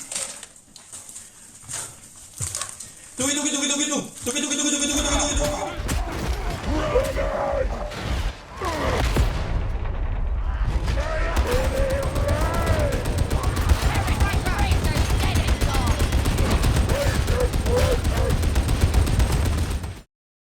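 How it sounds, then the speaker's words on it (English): Ranged weapon gunfire in the Warhammer 40,000: Darktide video game: a dense, loud, continuous barrage of shots with mechanical clatter and creaks, building from sparse opening noises into sustained combat. "our ability lets us instantly reload our ranged weapon and deliver some big weapon action"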